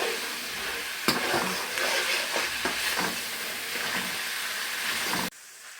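Chopped tomatoes frying in a pan for aloo palak, giving a loud continuous close-up sizzle with a few sharp spoon knocks and stirring scrapes, then cutting off abruptly near the end.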